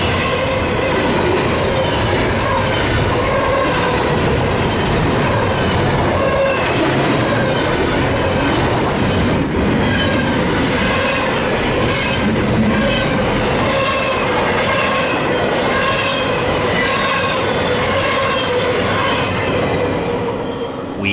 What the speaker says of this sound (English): NS-213 is a daily intermodal train running out of Rutherford, Pennsylvania, heading for Atlanta's Inman Yard.